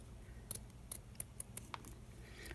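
Scissors snip through a handmade craft feather, giving a series of about seven short, crisp cuts at uneven intervals. The cuts sound close and fairly quiet, with no talking.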